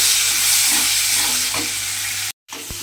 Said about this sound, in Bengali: এবারে আমি তেলের মধ্যে চিংড়ি মাছগুলো দিয়ে দেব। দিয়ে চিংড়ি মাছগুলো কিন্তু একটু ভালোভাবে ভেজে নিতে হবে।